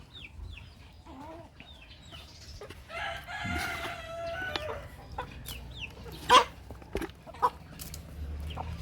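Native upgraded chickens cluck and call at a farmyard, with a rooster crowing loudly partway through amid scattered bird sounds and low background rumble.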